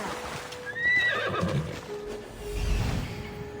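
Horse in Assassin's Creed Odyssey gives a loud rising whinny, followed by muffled hoofbeats and a low rumbling gust, close with no speech.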